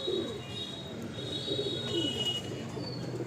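A breeding Nazra Kaldam pigeon in a loft coos in low, rolling phrases against a steady background hum, with faint higher whistling tones and no speech.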